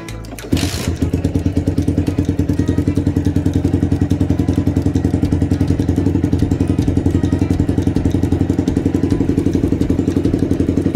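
A Suzuki Tiger motorcycle engine idles close by with a steady, rapid chugging rhythm after a brief burst at the start. No one speaks.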